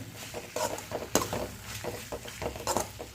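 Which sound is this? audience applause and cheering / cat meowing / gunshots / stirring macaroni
stirring macaroni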